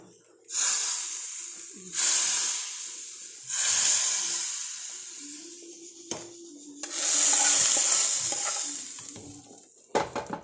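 Tempering hisses and sizzles as it is poured into mango pulissery curry, a Kerala mango and curd dish, in several loud bursts, then a long bubbling boil with low voice-like murmurs underneath.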